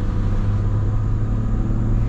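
Inside the cab of a moving old Toyota Tundra with the 3.4 engine, a steady, loud, low engine rumble and road drone hold unchanged throughout.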